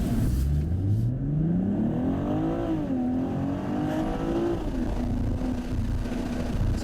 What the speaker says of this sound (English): So that's full acceleration,